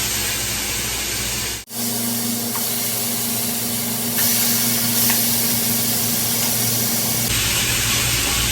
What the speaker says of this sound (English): I'm gonna take my bacon from a pot like that and I'm gonna put it inside my pan